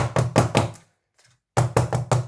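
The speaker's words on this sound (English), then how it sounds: "I'll just tap it" Two bursts of sharp, rapid knocks as a metal cake tin filled with pound cake batter is rapped repeatedly on a hard surface, separated by a brief silent pause.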